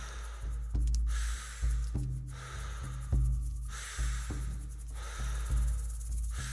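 Repeated breathwork breathing, strong rhythmic inhales and exhales close to the mic, several cycles in steady succession with no talking.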